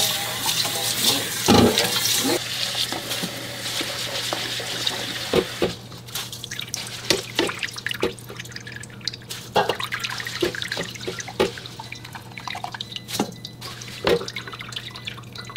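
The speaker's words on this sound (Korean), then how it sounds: "그리고 이렇게 해서 두세 번 깨끗하게 씻어주면 돼요." Perilla seeds being rinsed and drained in water in a home kitchen, with splashing, dripping and trickling water, busier at first and then settling into scattered drips and small pours, close and moderately loud with no talk.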